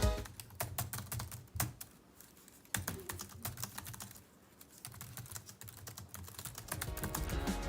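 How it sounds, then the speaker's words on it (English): Quick, irregular clicking of non-mechanical Chuwi Gemibook XPRO laptop keys being typed on, close by, with brief pauses between bursts and no voices. "The keyboard is not mechanical, nor is it fatiguing to use."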